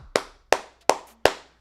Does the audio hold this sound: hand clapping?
yes